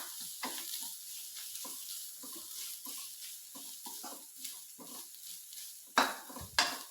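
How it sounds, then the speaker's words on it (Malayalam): Papad thoran with grated coconut is stirred in a frying pan, a soft scraping of a spoon against the metal pan in irregular strokes over a faint sizzle, with two sharper knocks near the end. "തേങ്ങയും കൂടെ ഇട്ട് നല്ലപോലെ ഒന്ന് ഇളക്കുക."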